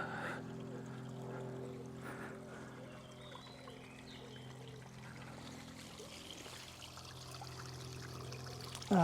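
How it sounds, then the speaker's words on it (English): Soft, steady trickle of running water, faint and continuous, with a low hum and light outdoor ambience throughout. "Running water."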